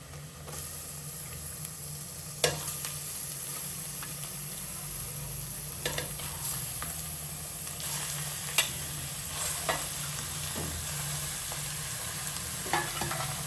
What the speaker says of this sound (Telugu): ఇప్పుడు ఈ మటన్ నేను ఇందులో వేసుకుంటున్నా